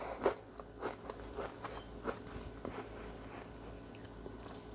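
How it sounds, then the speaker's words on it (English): Crunchy chocolate chip cookies made with corn flakes are bitten and chewed close up, giving a quick series of soft, crisp crunches and crackles at low volume with no talking. "They're definitely crunchy."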